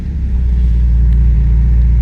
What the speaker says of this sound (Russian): Все, машина ездит